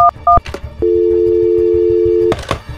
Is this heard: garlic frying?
no